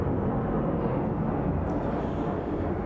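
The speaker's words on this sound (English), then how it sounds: "There's some planes going overhead right now. Military aircraft right now." Military aircraft pass overhead near a large airbase, a loud, steady broadband roar that fills the whole stretch without letup, with no voices over it.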